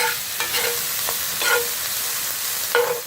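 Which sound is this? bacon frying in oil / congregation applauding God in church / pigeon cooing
bacon frying in oil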